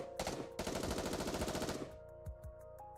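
Rapid automatic gunfire in the video game NIKKE rattles off in a loud, dense burst lasting under two seconds, followed by a few separate heavy shots and ringing tones.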